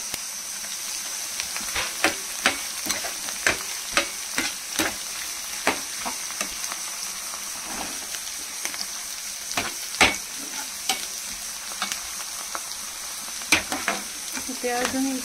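Onions fry in a pan with a continuous crackling sizzle, broken by frequent sharp spatters and utensil taps at an irregular rhythm, close and fairly loud, with no talk.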